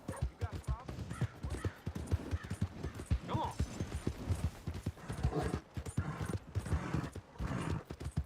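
Horse hooves clip-clop at a steady walk in the Red Dead Redemption 2 video game, sitting low beneath almost constant close conversation.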